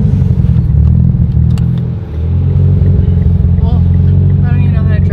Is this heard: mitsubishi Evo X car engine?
yes